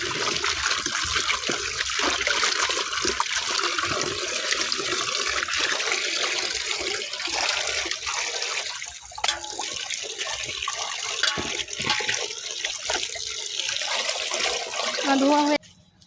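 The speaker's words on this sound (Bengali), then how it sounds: "এখন কুঁদরি শাকগুলো ভালো করে ধুয়ে নেব।" Kundri greens are washed in water in a village kitchen, a continuous splashing and pouring rush with trickles, steady throughout, and a voice briefly heard.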